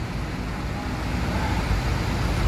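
Buses gathering by the roadside in the late afternoon, heard as a loud, steady rumble of idling and passing heavy engines with broad road noise, continuous throughout.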